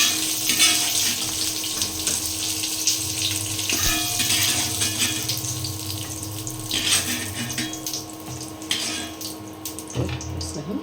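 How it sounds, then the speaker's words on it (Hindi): Tomatoes frying in a pan, a steady broadband hiss and sizzle running through the whole stretch, fairly loud and close, with a few clinks and stirring knocks and no talking. "तो इसमें हम टमाटर को फ्राई करने के लिए डाल देते हैं।"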